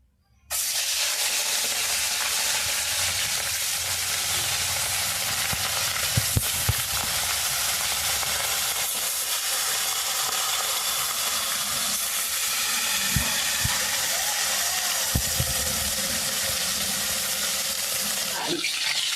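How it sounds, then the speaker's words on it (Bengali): Katla fish frying in hot oil sizzles with a loud, continuous hiss that starts abruptly and holds steady, broken by a few sharp crackles and pops. "মাছটা ভেজে নেব"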